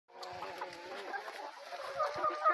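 A small flock of hens clucking softly and continuously at close range, with overlapping short calls and a few louder clucks toward the end.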